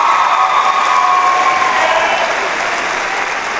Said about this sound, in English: Can I just get a round of applause for the class 2018 one more time?